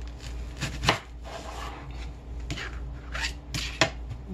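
Knife slicing through a purple onion on a cutting board, a few distinct close cuts and taps spaced irregularly with soft scraping between them, fairly quiet.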